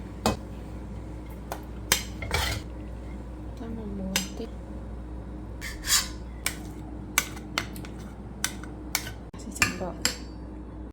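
Pots and utensils clink and scrape while nasi goreng fried rice is cooked in a kitchen, with scattered light metallic taps and clatters over a steady low hum.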